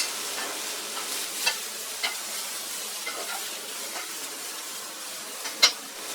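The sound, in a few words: stir-frying broad beans on high flame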